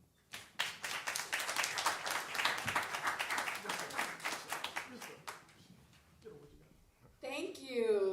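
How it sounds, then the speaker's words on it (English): A church chapel audience applauds a group of panelists, a dense, steady burst of clapping lasting several seconds before fading, followed by a voice speaking alone. "Let's give them another round of applause"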